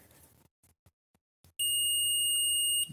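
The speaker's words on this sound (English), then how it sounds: "There you go, that should beep." A multimeter in continuity mode gives a single steady, high electronic beep while its probes test a replacement power board for an original PS2. Quiet clicks and taps come first, then the clear tone sounds alone for just over a second.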